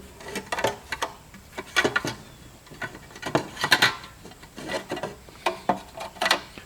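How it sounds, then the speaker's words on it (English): Metal mounting sleeve being worked off a Sony car stereo head unit: a series of short scraping, rubbing clicks and sliding metallic scuffs in uneven bursts, close and moderately loud, with no talking. "we're going to be taking off the metal sleeve from the Sony head unit and then inserting it in here to lock it down"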